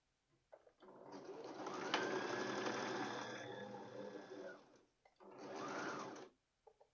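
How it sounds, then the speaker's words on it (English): A sewing machine sews a circle skirt seam in two close bursts, a long steady whirring run and then a shorter one, with faint handling noises around them. "So let's sew it up here."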